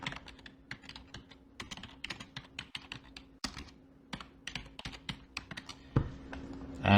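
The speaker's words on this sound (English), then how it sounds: "we'll type something in" Quiet typing on a computer keyboard, a run of irregular soft key clicks in short bursts with brief pauses and a steady low hum behind, ending with a slightly louder knock.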